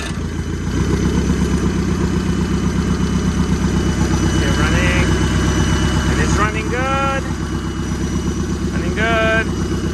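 Nissan SR20DET engine from a 1991-95 S13, run on a stand outside the car, idling with a loud steady rumbling drone close by, a few faint whistling chirps over it and no talk.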